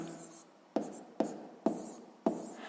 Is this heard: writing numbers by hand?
yes